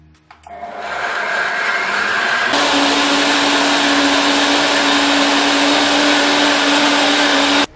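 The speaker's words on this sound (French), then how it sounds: "je sélectionne le mode soupe pour mixer l'ensemble" Kitchen blender on its soup setting puréeing a pea velouté, a loud steady whirring motor that kicks in hard partway through and runs continuously before cutting off at the end.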